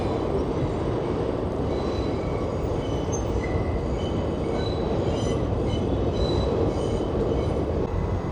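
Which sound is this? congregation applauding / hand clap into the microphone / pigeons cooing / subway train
subway train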